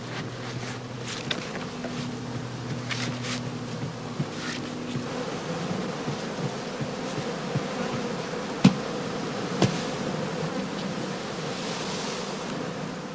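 Honey bees buzz around straw skeps as a beekeeper removes them, a steady dense drone with a few brief sharp clicks and knocks nearby.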